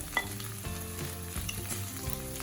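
Spices such as chilli, turmeric and coriander powder sizzling and frying in a pan for sambar, a steady crackling hiss with a few stirring clinks, close and quiet.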